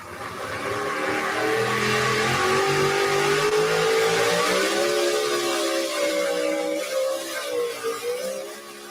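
The Pepper Shaker, one of a pair of twin trucks, revs hard through a run at Coldwater, Michigan, its engine note climbing and wavering in loud sustained pitch before easing off near the end.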